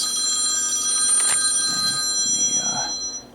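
A telephone rings in a radio workshop during an amplifier repair, one brief electronic ring burst standing out over a steady high-pitched hum, with faint room noise beneath.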